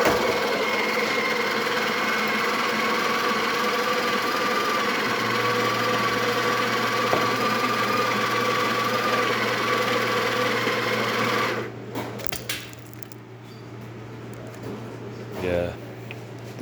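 The grinder of a Breville Barista Express espresso machine runs with a steady buzzing mechanical whir, close and loud, then cuts out and gives way to quieter handling sounds and a brief motor pulse.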